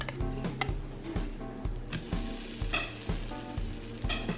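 French toast sizzles and fries steadily in a pan, with repeated soft scraping and tapping of a utensil at a regular pace, close and fairly quiet with no talking.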